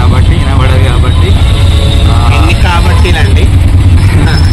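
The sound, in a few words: auto-rickshaw ride with road traffic and horns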